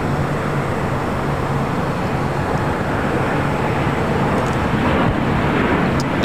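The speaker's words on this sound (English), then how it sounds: "Viva Aerobus, flight 511, heading to Guadalajara. It's an A320." A Viva Aerobus Airbus A320 taking off at LAX, a loud steady broadband jet engine roar with wind noise, sustained and close throughout.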